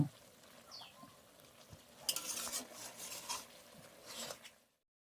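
A spatula stirring mixed vegetable curry (panchmishali sobji) in a kadai: soft scraping and rubbing against the metal, with a couple of louder sweeping strokes, close and without speech.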